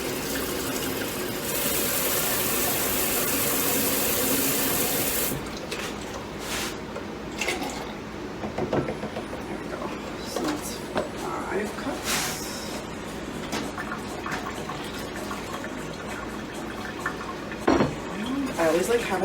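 Water pours into a soup pot of carrot zucchini soup with milk, a bright rushing gush for a few seconds, followed by clinks, stirring and kitchen handling noises.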